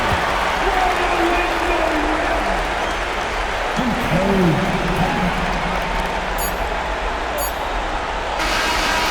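Arena crowd roaring continuously in an NBA 2K25 basketball game after a dunk by a Detroit player, a dense steady wash of cheering and applause filling the space, with faint commentary-style voices woven through.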